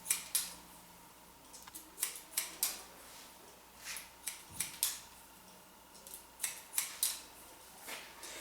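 Scissors trim a boy's hair at close range, giving a string of quick crisp snips in short irregular bursts over a quiet background.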